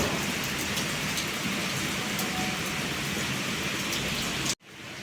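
Heavy rain pours steadily in North India, a dense, even hiss of drops on surfaces with no voices, continuing loud and constant until it cuts off abruptly near the end.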